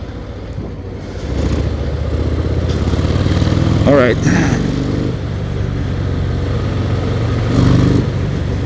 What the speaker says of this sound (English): See all these motorcycles